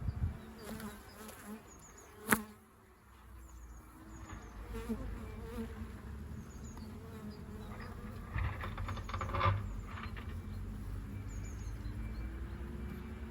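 Carniolan honeybees buzzing around a hive, a continuous droning hum with individual bees zipping past close by, a sharp knock partway through.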